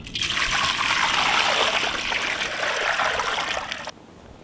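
Cold water pours steadily into a cooking pot for spinach in a home kitchen, a loud continuous trickling splash lasting about four seconds before stopping abruptly, with no talk over it.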